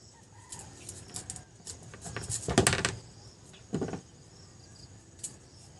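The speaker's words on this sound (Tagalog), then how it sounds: "Yung alaga mong manok, naghahingi na ng pagkain." A few short clucks from chickens, with two louder bursts standing out against a quiet background, plus faint rustling and knocks.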